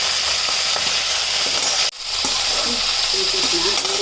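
Urad dal and coriander seeds frying in hot oil make a loud, steady sizzle with stirring scrapes and faint crackles; the hiss dips for a moment midway, then resumes just as strong.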